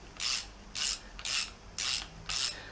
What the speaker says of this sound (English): using a 24mm open-ended wrench and your preload adjuster holder tool, you can tighten it up